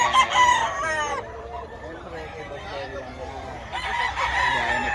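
Roosters crowing repeatedly at a busy chicken market, one loud close crow at the start and another near the end, with clucking and fainter crows between.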